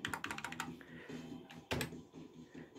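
Computer keyboard arrow keys are pressed on a Windows PC while playing Colin McRae Rally 2.0, a quick flurry of close, crisp clicks followed by a few scattered taps and one louder keystroke.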